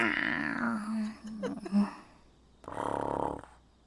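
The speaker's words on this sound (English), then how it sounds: "They're snoring!" Characters snoring in the Persona 5: Strikers video game: a long rasping breath, a few small snorts and gurgles, then a second drawn-out snore, close up with no clear talk.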